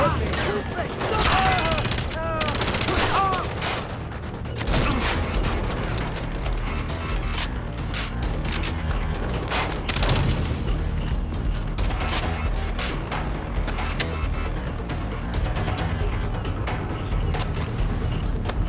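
Rapid gunfire and clanking weapon mechanisms from the first-person shooter Far Cry 3, with bursts of shots over a dense, loud battle din and a few brief game effects, close and continuous throughout.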